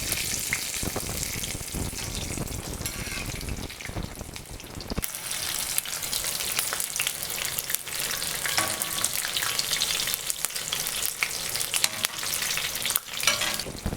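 Green chillies dipped in batter deep-frying in hot oil as mirchi bajji, a dense, loud, continuous bubbling sizzle with brief stirring clatter near the end.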